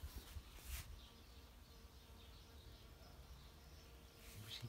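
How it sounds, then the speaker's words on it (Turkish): Bees buzzing around garden flowers planted in soil-filled pots, a faint, thin hum drifting in and out against quiet outdoor background, with a few soft knocks near the start and end. "arılar ve kelebekler görevlerini yapıyorlar"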